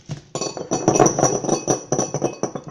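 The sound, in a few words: whisk clinking in a bowl while mixing ravioli filling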